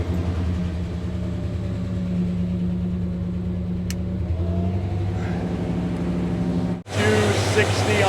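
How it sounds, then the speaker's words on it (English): A 1956 Cadillac engine, just restarted after years abandoned, idles steadily with a deep, continuous low rumble and mechanical hum up close, briefly cutting out near the end before resuming, with someone talking at times. "I just started the engine back up"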